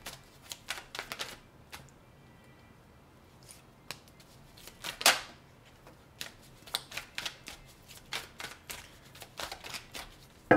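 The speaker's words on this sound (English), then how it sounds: "Shuffle for Scorpio." Tarot cards being shuffled by hand give quiet, crisp flicks and riffles in irregular bursts across the whole stretch, close up with no talking.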